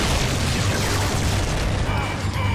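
In a Power Rangers Dino Fury cartoon, the Electro Zord lets off a loud, continuous blast that stays dense and booming for the whole short moment, with an explosive rumble and no break in the noise.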